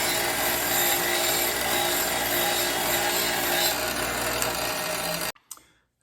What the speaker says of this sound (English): And then just clean up the threads.